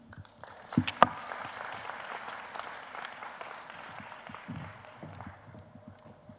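Audience applause at a live energy and conservation event, a couple of sharp claps up front giving way to steady, moderate clapping from a seated crowd that slowly thins out.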